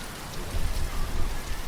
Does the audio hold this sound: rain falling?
yes